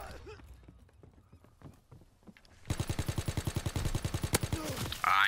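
Rapid automatic gunfire in Call of Duty WW2, a fast even string of loud close shots after a quieter stretch of scattered footsteps and clicks, ending with a burst of bright noise.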